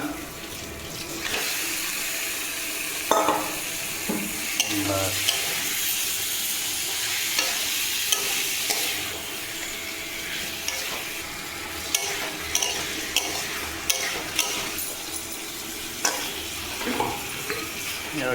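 Steady loud sizzling of chicken frying in a pan with spice paste, with scraping stirring strokes throughout, no talking.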